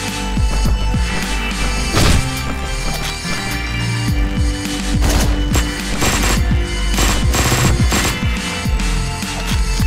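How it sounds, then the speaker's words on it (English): Rapid bursts of gunfire from the video game Hotline Miami 2 rattle in quick, loud volleys, with sharp impacts and crashes packed tightly over a driving game soundtrack. "Did I just shoot through the wall?"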